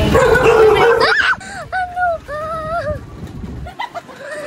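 Several dogs bark, yip and whine along a road, their yelps rising and falling in bursts over a steady engine hum, with a few quieter whimpers near the end.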